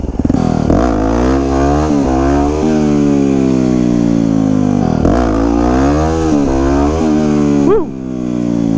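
A 2009 Yamaha WR250X supermoto motorcycle held at wide-open throttle, its engine roaring loud and close as the pitch rises and dips through several gear changes, with no voices over it.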